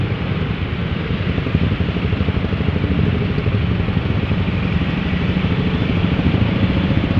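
Motorcycles idle in a traffic jam on a street in Makassar: a steady, dense wash of engine rumble and clatter that fills the whole stretch without pause, with no voices.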